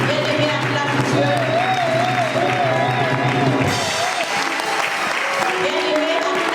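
A church congregation applauds God with loud, sustained clapping that fills the room throughout, mixed with crowd cheering and a voice calling out over it.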